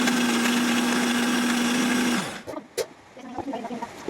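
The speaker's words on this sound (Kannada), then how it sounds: "ಅದು ನೀಟಾಗಿ ರುಬ್ಲಿ, ಅಂದರೆ ಗ್ರೈಂಡ್ ಆಗಲಿ" A kitchen mixer grinder blending a small batch of pani puri paste hums loudly and steadily for about two seconds, then shuts off, leaving faint clatter and handling noises.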